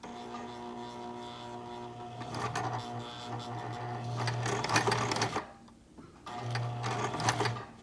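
A sewing machine stitches a seam over a seam jumper, whirring in two steady runs separated by a short pause, close and fairly loud with no talking.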